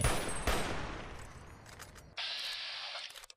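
Gunfire in Fallout New Vegas: a couple of sharp close shots at the start followed by a decaying rattle and a short hissing mechanical burst near the end, with no talk over it.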